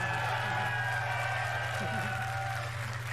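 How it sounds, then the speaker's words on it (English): Audience applause at the Inside Xbox X019 event in London, a steady wash of clapping from a large crowd that holds at an even level throughout under a constant low hum. "Give her a round of applause."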